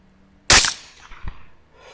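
A single sharp gunshot cracks out during a hog hunt, loud and close, followed by a fading echo and a fainter thump about three-quarters of a second later.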